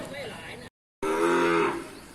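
Cattle at a livestock market give a close, loud moo, then after a short silence a second, longer and deeper lowing call that fades at the end.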